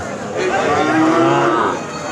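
A cow with her calf at the Aricha cattle market gives one long, loud, close moo that swells and fades over about a second and a half against quiet market noise.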